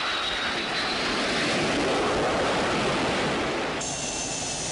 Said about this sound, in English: The Corps fields high-performance jet aircraft, such as the FA-18 Hornet Strike Fighter.